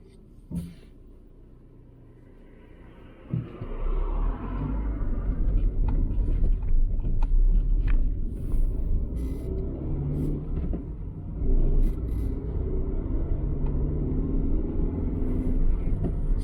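Engine of a large car with a 1.2 litre motor pulls away on the road during a test drive, a steady close rumble rising in level and holding with road noise, no talking.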